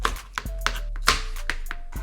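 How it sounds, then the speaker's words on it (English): Knife chopping sweet red peppers on a cutting board outdoors while smoked ground beef tacos are prepared: a handful of sharp, irregular chops, close and fairly loud, over a steady low hum. "Let's chop up these sweet red peppers."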